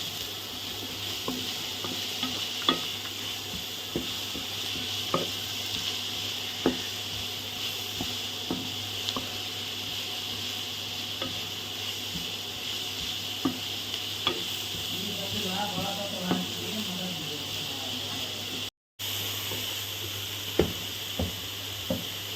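Momo filling with salt is stirred and mixed while it fries in a pan, giving a continuous sizzle under repeated scraping and tapping strokes of a spoon, with a brief dropout near the end and no talk.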